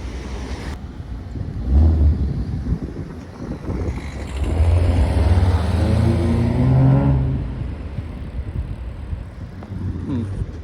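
A Ford Mustang V6 drives past on a street, its engine note swelling to a loud, near, tonal drone mid-clip and then fading away, with wind buffeting the microphone and someone talking over the quieter moments.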